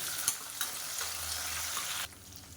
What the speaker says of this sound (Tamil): இப்போ வெங்காயம் பூண்டு எல்லாமே நல்லா இந்த அளவுக்கு வதங்கிடுச்சு